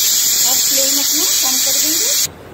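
Pressure cooker of black chickpeas on a high flame, its whistle venting steam as a steady, loud hiss that runs under Hindi speech and cuts off abruptly just before the end.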